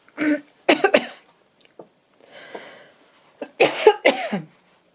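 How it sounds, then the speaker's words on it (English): Several harsh coughs close to the mic in short bursts, separated by quiet pauses and a softer breathy stretch, ending with a loud double cough. "it's inevitable I'm going to have the odd moment when I've got a cough"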